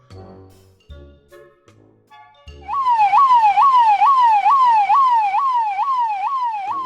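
An ambulance siren wails in a loud, close, rapid rising-and-falling cycle that starts suddenly and keeps going, after a few brief low thumps.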